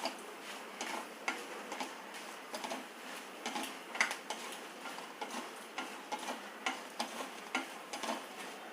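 Around fifteen dried red chillies fry in oil, giving a steady light crackle and sizzle. Small pops and ticks come through close up at an irregular, fairly even pace, with no talk over them.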